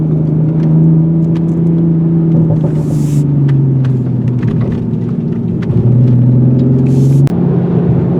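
A 2020 Toyota Supra's engine and exhaust drone steadily at close range, with a low, continuous tone that dips and rises slightly as it shifts and cruises, plus faint clicks.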